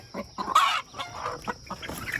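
A broody hen clucks close by in short, repeated bursts among young chickens in a run, with a louder squawk midway and softer clucks trailing off.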